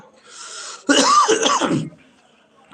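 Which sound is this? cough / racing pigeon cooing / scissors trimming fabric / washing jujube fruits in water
cough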